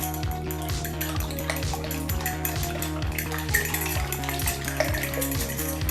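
Omelette batter of egg and milk whisked in a bowl: close, quick, evenly repeated stirring strokes with wet sloshing and light scraping, continuing steadily with no talking.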